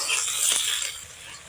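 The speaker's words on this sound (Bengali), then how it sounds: "পেঁয়াজটাকে হালকা লাল লাল করে ভেজে নেব।" Chopped onion fries in oil with bay leaves and white cardamom for ghugni, giving a close, steady bright sizzle that softens slightly toward the end.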